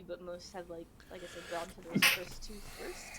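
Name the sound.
sneeze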